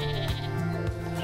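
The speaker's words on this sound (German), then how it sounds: "Ach Gott, das sind ja ganz viele Schafe." A single sheep from a large flock gives a loud, wavering bleat close by, with a second shaky call overlapping and faint outdoor background.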